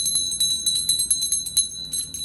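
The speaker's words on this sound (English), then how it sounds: "I have been using my bell, but you know what? I'm going to be getting a better bell." A small brass bell rung to clear energies, its bright sustained tone repeating in quick, steady strikes across the whole short stretch, close and fairly loud, with no voices over it.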